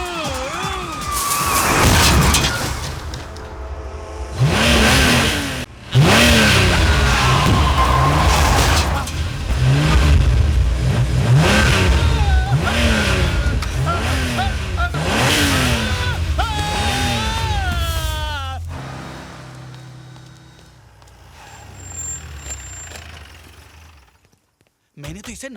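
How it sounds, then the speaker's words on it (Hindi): A driverless car's engine revving and accelerating hard, loud rising and falling engine pitches sweeping repeatedly, with a siren-like wail mixed in and voices talking over it before it fades out. "अरे गाड़ी में कोई नहीं है, ये कैसे हो सकता है? गाड़ी कौन चला रहा है फिर?"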